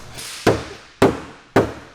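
Three sharp, loud hammer blows strike metal while a Nissan S13 car body is being cut up, spaced about half a second apart, each followed by a brief ringing decay.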